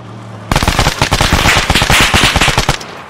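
Rapid gunfire in the video game Arma 3, a dense burst of loud crackling shots lasting a few seconds after a brief quiet moment.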